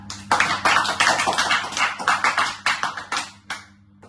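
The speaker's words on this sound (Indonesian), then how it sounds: "Tepuk tangan untuk kalian semua." Classroom applause for student groups during a micro-teaching lesson; a burst of dense clapping from a small group, close and fairly loud, thinning out and stopping near the end.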